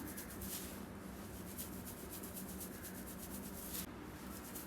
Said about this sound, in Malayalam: ഒന്ന് മുടിക്ക് മസാജ് ചെയ്ത് കൊടുക്കാം